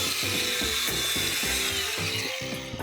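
An angle grinder cuts through metal rivets on a cheap computer case, a loud continuous harsh grinding with rhythmic pulsing bursts as the disc bites, close and alone without talk.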